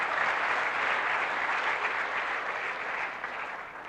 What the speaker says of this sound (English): If you can give them a round of applause for organizing.